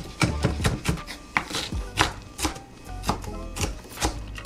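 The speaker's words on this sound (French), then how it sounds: "on va essayer de couper ça finement" Knife chopping food finely on a board, freshly sharpened with a cheap sharpener, giving a steady series of crisp close taps, about ten over a few seconds, with no talk.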